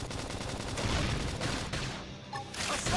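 Rapid gunfire in the video game Xenoblade Chronicles X, a dense continuous volley of shots and impacts mixed with game effects, loud and close, breaking off briefly before resuming.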